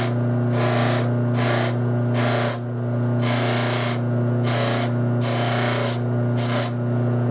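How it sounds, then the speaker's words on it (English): Buffing wheel stripping lacquer from a herald trumpet bell, with a steady motor hum beneath repeated bursts of bright abrasive hiss as the metal is pressed on and lifted off, roughly once every second, close and loud. "And get the buffing wheel on there. And this lacquer is going to come off fairly quickly."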